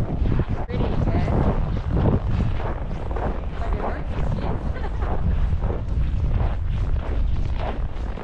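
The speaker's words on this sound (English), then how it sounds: "that wind is cold" Cold wind gusts across a ski slope in Montana, buffeting the microphone with loud, continuous rushing and rumbling from start to end.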